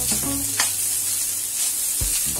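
Egg rice masala with a little coriander sizzles steadily in a pan and is stirred, with a couple of short scraping strokes over a constant close frying hiss.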